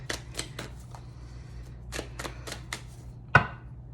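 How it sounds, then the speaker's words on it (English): Tarot cards being shuffled by hand, a string of sharp, irregular papery taps and clicks close by, ending in one louder snap as the shuffle catches, over a low steady hum. "It happens when I shuffle and it doesn't go through all the way."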